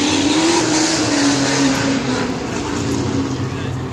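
A car engine revs hard and loud at a nighttime street car show, a continuous roaring drone holding steady for several seconds before easing slightly, with crowd noise around it.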